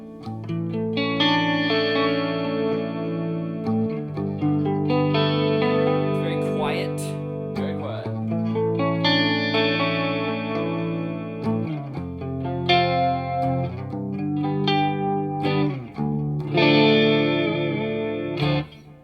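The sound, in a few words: guitar amplifier with chorus effect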